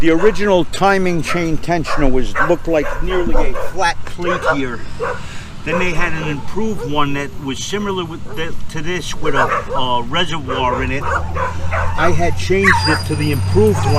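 Several dogs bark and yip excitedly in a garage workshop where a BMW K1200R motorcycle is being repaired. The barking is loud, frantic and continuous, under a man's steady, close talking.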